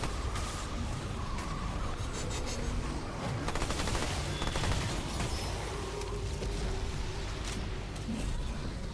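Rapid gunfire from Remnant 2 fills the scene, dense overlapping bursts of shots running continuously at close range with rumbling impacts beneath.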